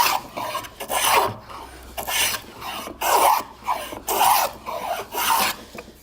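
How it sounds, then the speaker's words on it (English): A hand plane shaving a wooden board in a woodworking shop, about seven rhythmic rasping strokes, each a loud close swish separated by short pauses, no speech. "I'm going to go ahead and start planing with this"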